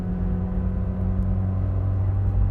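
Peugeot 306 1.6 petrol with an AL4 automatic gearbox accelerating and shifting down, a steady low engine drone and hum heard from inside the car, constant and fairly loud with no talk.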